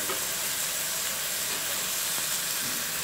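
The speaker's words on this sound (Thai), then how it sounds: "เอาแครอทลงไปผัดนะครับให้สุกนะฮะ" Carrots and baby corn stir-frying in a pan give a steady, close sizzle and hiss that holds evenly from start to finish, with no voices over it.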